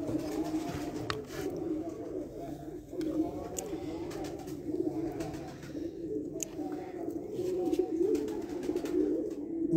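Breeder pigeons on a rooftop give soft, repeated throaty coos that run through the whole stretch, with faint voices and a few light knocks in the background.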